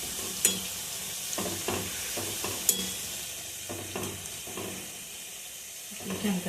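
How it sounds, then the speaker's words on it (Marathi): Spicy cumin shankarpali dough pieces deep-frying in hot oil give a steady bubbling sizzle throughout, with a few sharp clinks and stirring scrapes of a utensil in the pan. "पाळी चांगली फुलायला लागले होईपर्यंत लाल होईपर्यंत तळून घेऊ"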